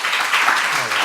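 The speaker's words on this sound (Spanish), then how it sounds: "recibámosle con un fuerte aplauso" Audience applause welcomes a guest speaker at a mural painting anniversary lecture in Cuenca, a short steady wash of clapping at moderate level with some voice mixed in.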